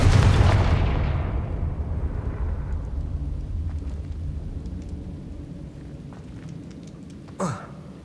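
A Confringo fire spell explodes in Hogwarts Legacy on PS5: a loud, close blast opens with a long rumbling decay that slowly fades, followed by a brief sharp magical whoosh near the end.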